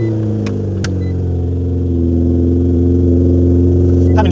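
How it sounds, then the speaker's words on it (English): A Nissan GT-R R35 engine running on E85 fuel after a cold start, sitting several weeks: a steady, deep idling rumble with a faint rise in level and a couple of brief clicks near the start. "I'm going to give you a cold start"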